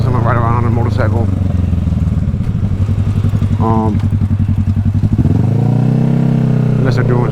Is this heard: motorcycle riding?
yes